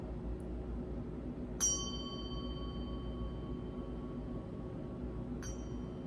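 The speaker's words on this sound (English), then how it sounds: "This is Ganti. It means bell in Nepalese, and this is what it sounds like." Two struck strikes of a Nepalese ganti bell, each a sharp metallic ping with a long clear ringing tone that fades slowly, spaced a few seconds apart over a quiet background hum.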